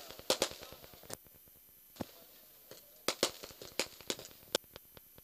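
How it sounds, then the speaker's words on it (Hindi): Fireworks and firecrackers burst over a cricket ground during an evening match, a string of sharp cracks and pops at irregular intervals, some loud and close, others fainter, with no talk. "तो बिल्कुल यहाँ पर फटेगी आतिशबाजी"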